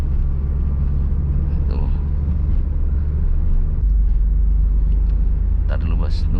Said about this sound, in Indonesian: pindah ke gigi 3 kayak gini ya. Lepas, tambah gas.